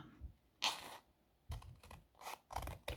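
Scissors snip through lace to shape faux French lace holders, with several quiet, separate cuts at close range, each a short crisp rasping burst with pauses between them and no talking.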